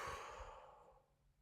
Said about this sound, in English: take what is known as a double inhale followed by a long exhale